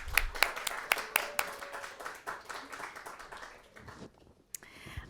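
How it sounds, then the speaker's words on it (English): Scattered applause from an audience at a NYC Jewelry Week event as speakers join the stage, a handful of sharp claps over a soft murmur, thinning out toward the end. "give them a big round of applause"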